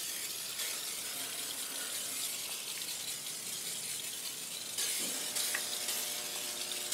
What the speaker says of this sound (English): I'll go ahead and spray the doors.